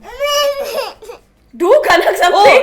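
A person mimics a small baby crying, producing a wavering, whiny wail that breaks off, then returns with a louder, more strained outburst over a few seconds.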